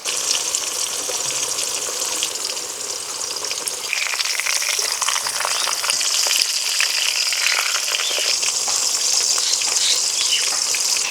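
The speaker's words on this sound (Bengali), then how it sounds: "উনুনের জাল কম রেখে ডিম হালকা করে ভাজবো।" Fish roe fries over low heat in a covered pan, giving a loud, steady sizzle and crackle that runs unbroken throughout with no talking.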